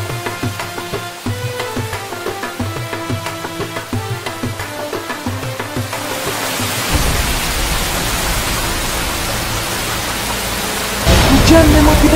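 Rain pours down steadily in a dense, hissing wash that builds louder toward the end, with a low rumble underneath; no one speaks over it.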